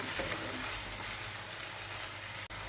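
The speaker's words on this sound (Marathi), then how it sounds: "आणि हे चाट मसाला व्यवस्थित परतून घेऊया" Green pea paratha filling seasoned with chaat masala sizzles and fries steadily in a pan, a continuous soft crackle with a brief scrape near the end and no talking.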